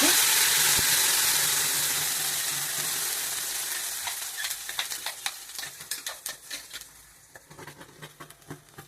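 Ground masala paste with cumin and greens frying in hot oil, a loud continuous sizzle that gradually settles while rapid crackling pops and stirring scrapes break out close by in the second half.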